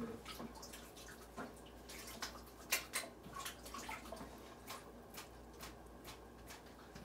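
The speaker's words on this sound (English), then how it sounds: "Clean my hands in the mosquito dunk water" Hands being washed in a container of mosquito dunk water in a greenhouse, with soft splashing, trickling and dripping close by, steady and fairly quiet throughout.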